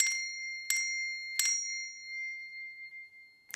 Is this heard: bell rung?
yes